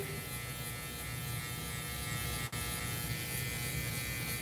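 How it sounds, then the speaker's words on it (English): An Andis Masters hair clipper buzzes steadily and close while cutting a boy's hair in a bald fade. The motor hum runs unbroken except for one tiny blip midway, with no talk. "I'm going to use this Andy's Masters to go ahead and do the whole haircut"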